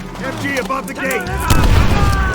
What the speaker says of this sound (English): MG above the gate!